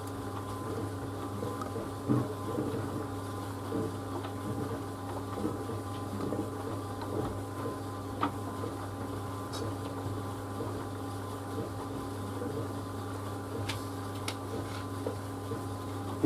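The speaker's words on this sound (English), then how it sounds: "It's very quiet, this dryer, compared to some older dryers which did make quite a lot of noise." A White Knight C38AW compact 3.5 kg reversing tumble dryer runs with a steady, quiet low hum and soft tumbling knocks, with occasional faint clicks.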